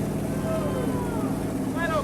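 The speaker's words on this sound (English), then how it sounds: "Yeah, Elton, go ahead, rev it up" A car engine treated with Prolong oil additive revs up steadily through a continuous mechanical drone, with some voices talking over it.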